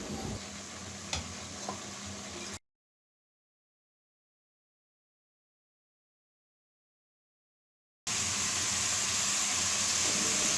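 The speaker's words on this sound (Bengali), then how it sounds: "এবার মিষ্টি কুমড়োগুলো নেড়ে চেড়ে একটু কষিয়ে নিব।" Pre-fried pumpkin pieces stirred in a pan of spices make a soft sizzle with scraping, broken by a long stretch of complete silence before the quiet frying resumes.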